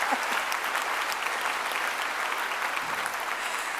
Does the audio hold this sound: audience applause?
yes